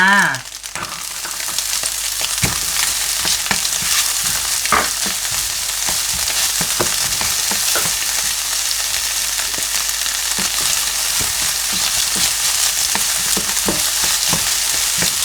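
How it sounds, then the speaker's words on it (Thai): Garlic and then onion stir-fried in a hot pan, a loud continuous sizzle with repeated scraping strokes of the spatula close up, running unbroken with no talking. "ผัดกระเทียมเลยให้สมกลิ่นหอมนะคะ แล้วก็ตามด้วยหอมใหญ่จ้า"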